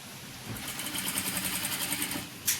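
A sewing machine stitches a churidar top, whirring into a fast, even rhythmic run of needle strokes after a brief pause, close and moderately loud, then stopping with a sharp click.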